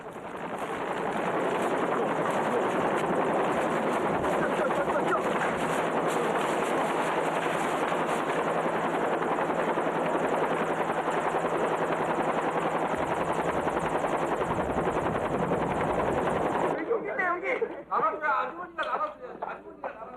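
A military resupply helicopter for Korean special forces gives a loud, steady rotor and engine roar that fills about seventeen seconds and then cuts away sharply, followed by a short stretch of voices.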